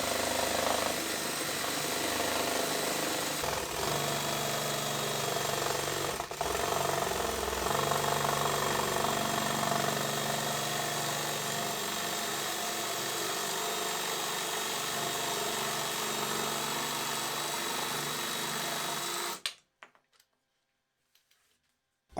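Parkside jigsaw drill attachment cutting through wood, a loud continuous whining motor buzz with a rough sawing rasp running steadily for about nineteen seconds, then abruptly stopping into near silence.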